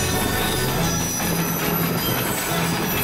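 A train in the Trainz video game rumbles steadily in reverse with a constant mechanical roar and faint wheel squeals, loud and continuous with no talking.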